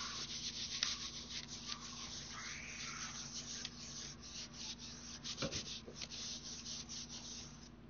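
Paper being rubbed against an inked linocut block, a steady soft scratchy friction that runs continuously at close range and low volume over a faint background hum.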